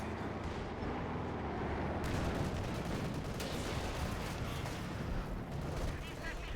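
Machine gun fire in a strategy video game from an LMG Grenadier squad, with bursts of rapid gunfire and heavy booms through a busy battle mix, while a commentator talks over it.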